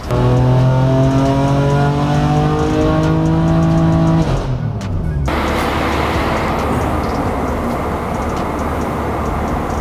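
BMW S55 engine car running hard on a dyno with a snow performance setup, a loud sustained engine wail with rising harmonics that cuts off sharply near four seconds, followed by a dense broadband roar and rush.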